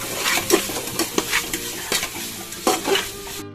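Tomatoes are stirred and fried in a pan for paneer biryani, a loud close sizzle broken by several irregular scraping strokes of a spoon against the pan, with no voices.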